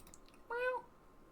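A single short meow from a cat in the video game Kentucky Route Zero rises clearly above faint background noise.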